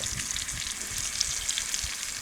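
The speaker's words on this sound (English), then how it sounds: "Hear that sizzle? Coals are coming along nicely." Food sizzles over charcoal in a cast iron pan: steady crackling sizzle with scattered pops, a continuous hissing fry heard up close with no voices.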